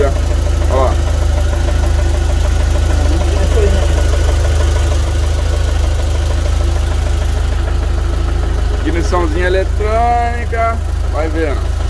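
A Ford F100 pickup truck engine idles with a leaking carburetor, a loud, steady low rumble that runs throughout, while people talk over it near the end.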